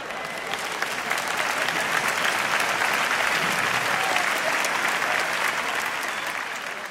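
Audience at a stand-up comedy special applauds a joke, a dense, even wash of clapping that holds steady for several seconds.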